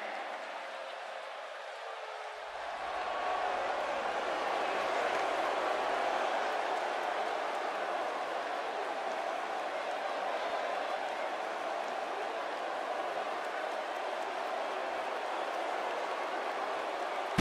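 A dense, steady roar of a large wrestling arena crowd in WWE 2K18 cheering and clapping for a European Championship match, swelling after a quieter opening and holding at a constant level.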